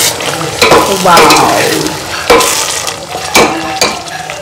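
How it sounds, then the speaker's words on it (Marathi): Masala sautéing in a pan for gravy in a home kitchen, a loud continuous sizzle broken by several sharp scraping stirs of the spoon, close up with no talking. "इथे माझं ग्रेव्हीसाठी मसाला परतवणं चालू आहे"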